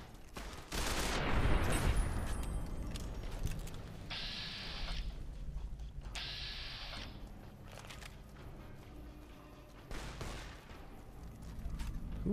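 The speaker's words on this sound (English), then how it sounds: "Who are you fucking shooting at now?" Gunfire rattles through a Fallout: New Vegas firefight, with dense bursts and scattered shots layered over continuous loud combat noise and occasional high mechanical whines.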